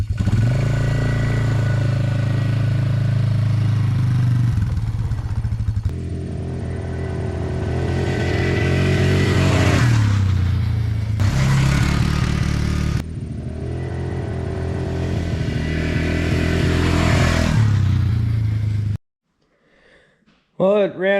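Polaris Trail Boss 330 ATV engine running on a test ride after transmission repair, revving up and down in steady waves through several passes, loud and close, then cutting off near the end as a voice speaks.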